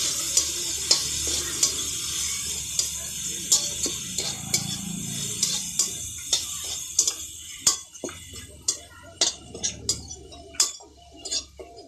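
Vegetables with turmeric and cumin powder sautéing in a pan for a Bengali vegetable chop, with a steady sizzle under repeated sharp scrapes and taps of a spoon stirring, growing more frequent toward the end.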